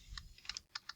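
Fingers tap a computer keyboard in a brief, close burst of about five light, quick keystrokes with small pauses between them, nothing else audible.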